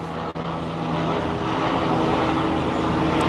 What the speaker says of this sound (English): These darn helicopter tours.